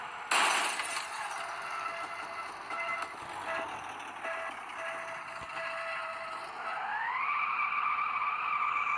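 Simulated car crash in a video game: a loud burst of breaking, shattering glass and crunching metal opens, followed by sustained scraping and skidding noise, then a rising engine-like drone near the end.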